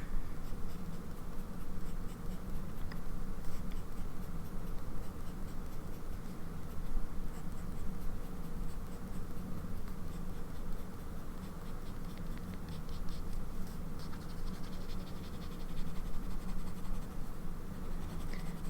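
A broad-nib fountain pen inked in cream-tinted blue scratches steadily across paper, a soft continuous close scratching and rustling without speech.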